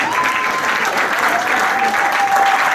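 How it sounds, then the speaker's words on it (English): A church congregation breaks into sustained applause, many hands clapping together in a dense, steady wash that stays loud for the whole short stretch. "Clap for Evangelist Henry now."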